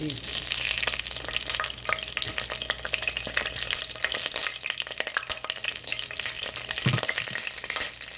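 Whole spices (cardamom, cinnamon and bay leaves) fry in a generous amount of oil for pulao, giving a constant close crackling sizzle with scattered pops and stirring scrapes throughout and no talking.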